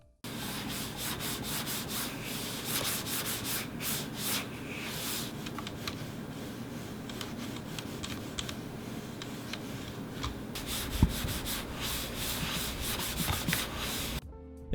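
Computer mouse on Lexip ceramic feet, fitted to a Razer Viper Ultimate, gliding steadily across a mouse pad, a soft continuous close-up rubbing with short back-and-forth sweeps and a brief tap near the end.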